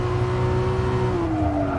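Race car engines in Gran Turismo Sport at Laguna Seca, a steady close engine drone with a sustained tone that gradually shifts pitch as the car accelerates off the line.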